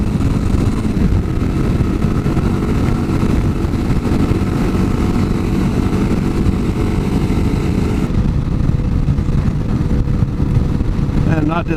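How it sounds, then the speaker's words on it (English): A 2022 Kawasaki KLR650 dual sport motorcycle engine drones steadily and loudly while riding, with continuous wind and road roar throughout. "And I'm not dissatisfied with the performance of this engine."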